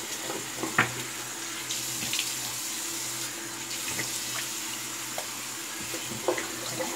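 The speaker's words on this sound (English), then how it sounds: "Cold water. Let me get the brush rinsed out here." Cold water runs steadily from a tap while a shaving brush is rinsed beneath it, a continuous close splashing stream with small knocks and clinks of handling.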